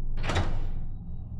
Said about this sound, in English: by shutting the door and locking it too.